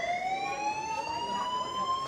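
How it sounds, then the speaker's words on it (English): Fire alarm ringing in a TV comedy scene, a loud continuous electronic tone that sweeps slowly upward in pitch, carrying on alone without a break and with no talking over it. "It's a fire alarm. Yeah, we need to leave."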